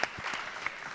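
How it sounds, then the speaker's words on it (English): Brief burst of audience applause at a school competition finals event, dense clapping from a crowd in a hall, heard close and fairly loud for under a second. "a round of applause for them."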